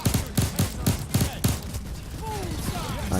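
Rapid gunfire from a sniper fight in Payday 2: a burst of about six sharp, loud shots in quick rhythm, then a quieter stretch with faint mechanical clinks and whistling tones.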